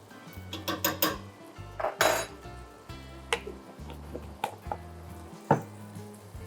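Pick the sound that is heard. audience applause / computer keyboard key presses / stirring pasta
stirring pasta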